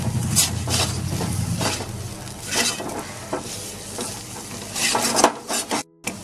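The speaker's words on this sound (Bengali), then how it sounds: "আরো 2 মিনিট মতো নাড়িয়ে নেব। নুনটাও ভালোভাবে মিশে যাবে আর এটাও পুরোপুরি ভাজা হয়ে যাবে।" A spatula repeatedly scrapes and stirs a frying egg-chop filling in a pan, making rhythmic sizzling strokes about twice a second over a constant hiss. The sound is close and loud, with no talking.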